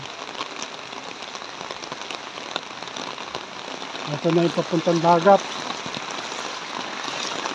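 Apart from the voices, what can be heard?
heavy rain during typhoon flood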